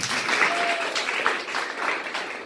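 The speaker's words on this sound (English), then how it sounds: "Clap your hands if you have." An indoor audience claps together, a dense, continuous round of applause that holds at moderate loudness throughout.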